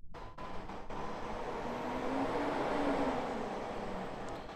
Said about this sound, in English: The trash truck is here, guys. So it's going to get loud